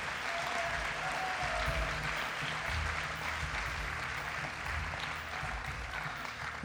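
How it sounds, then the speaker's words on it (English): Audience applause at the Equator Prize 2017 ceremony, a steady, dense round of clapping from a large crowd that holds at an even level throughout with no talking. "Let's hear a round of applause real quick."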